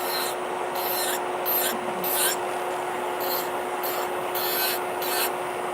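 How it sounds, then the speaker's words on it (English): An electric nail file buffs acrylic nails in a smooth, continuous whirr with a steady tone, rising and falling in short passes as the bit moves, close and steady. "when you're filing in this view, I'm not looking at my e-file, I'm not looking at the bit"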